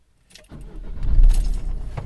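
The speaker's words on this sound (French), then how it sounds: "Donc là, on verrouille le véhicule." A Peugeot 3008 is locked in a quiet setting: a brief click comes first, then a low rumbling mechanical whir swells and holds to the end, with no speech.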